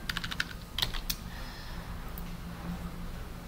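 Quick bursts of computer keyboard typing during web programming work, a cluster of sharp close key clicks early on, then quieter room tone.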